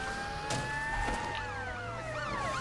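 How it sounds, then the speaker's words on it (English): Police car sirens wail and sweep in Watch Dogs Legion, several tones gliding up and down together over steady engine and road noise, loud and continuous throughout. "Really wimpy, girly sirens."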